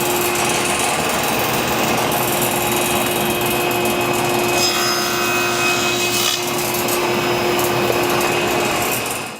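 A table saw cuts through wood to clear the shoulder of a tenon, a steady, loud whine holding close and continuous throughout with a slight change in tone midway, no talking.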